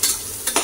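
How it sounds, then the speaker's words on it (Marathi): Onion frying in hot oil with curry leaves in a pressure cooker, a short burst of sizzling and stirring scrapes, with two louder swells of sizzle near the end, close and brief. "कांदा घालून घेऊया चांगला।"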